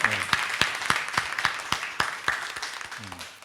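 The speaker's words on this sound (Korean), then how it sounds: "뜨거운 박수 한번 보내주시겠습니까" Enthusiastic applause from a church congregation during a Sunday worship service, a burst of steady clapping that stays strong throughout.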